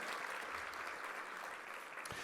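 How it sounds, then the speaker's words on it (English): A faint, distant round of applause from an audience at a World Trade Week event, dense and steady clapping from many hands throughout, with no talking over it. "A big round of applause for all of them."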